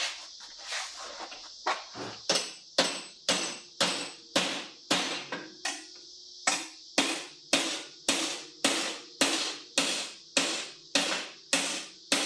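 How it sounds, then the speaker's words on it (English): Metal struck repeatedly with a hammer on an anvil to bend a slight curvature into a hood piece; sharp, ringing blows arrive in a steady, fairly quick rhythm, close and loud, with no talking. "be able to tap that a little bit on an anvil. A little bit of a curvature"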